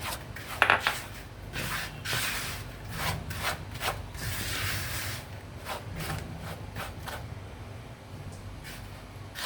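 Crushed Oreo biscuits are worked by hand into about 200 grams of butter in a dish, giving close, dry rubbing and scraping strokes in an uneven rhythm, quiet with no talking.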